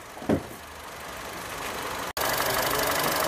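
A Honda Amaze engine runs steadily close by after a major service and fresh oil, an even low hum with a brief knock early on and a short dropout before it resumes.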